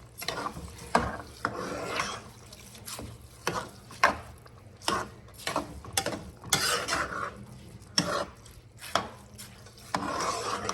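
A spoon scrapes and knocks around a cooking pot while ingredients are mixed, giving repeated short clanks and rasping strokes in an irregular rhythm, close and fairly loud.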